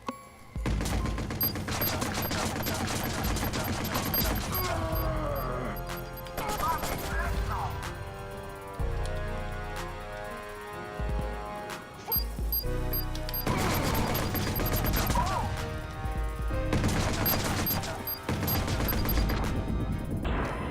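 Grenade blasts and gunfire in Watch Dogs keep erupting in loud bursts against a backdrop of game music, with a voice talking amid the combat.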